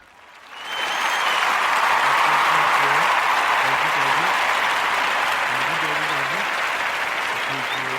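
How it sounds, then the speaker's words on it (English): A small group claps steadily for a WWE news host, with dense, continuous applause that swells quickly and holds, and a voice speaks faintly underneath. "Give me a clap."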